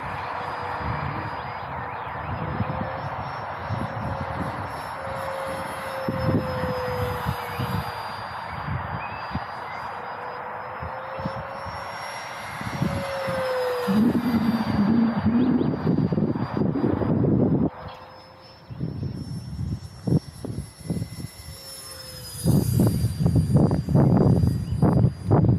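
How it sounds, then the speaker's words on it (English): An E-Flite Habu electric ducted fan RC jet whines overhead in flight, a thin rising and falling whistle that comes and goes over steady wind noise outdoors, with occasional rustling and thumps. "It does also have a fairly good EDF sound to this one."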